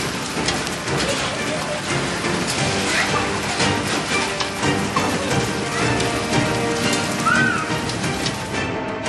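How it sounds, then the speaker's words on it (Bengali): Hail mixed with rain falls under a cloudy sky in Rampurhat, Birbhum, a dense and steady patter spread evenly throughout, with a voice faintly present. "মেঘলা আকাশ, এরই মাঝে বীরভূমের রামপুরহাটে শিলাবৃষ্টি।"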